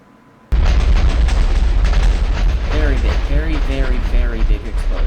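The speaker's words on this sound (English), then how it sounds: "the nuclear bomb, which has the biggest explosion of the 3" A huge, sudden nuclear bomb explosion in a video game booms in, then a loud roaring rumble carries on for several seconds while a voice speaks over it.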